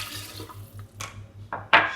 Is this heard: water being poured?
yes